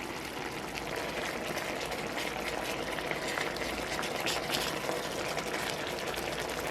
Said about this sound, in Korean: 끓어오르면 강불에서 3-4분 익히세요.